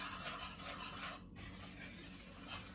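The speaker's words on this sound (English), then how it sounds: "give that a little mix around" Pancake batter for Scotch pancakes being stirred in a bowl after one egg is added, a steady close rubbing and scraping mix with a brief pause midway, no talking.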